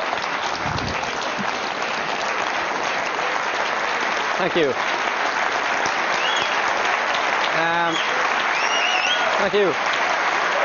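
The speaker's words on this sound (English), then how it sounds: "give her a round of applause" Steady audience applause fills a live stage show, continuous and loud throughout, with someone briefly speaking over the clapping near the end.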